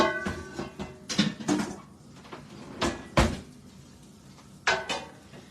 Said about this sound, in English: let me grab another pan here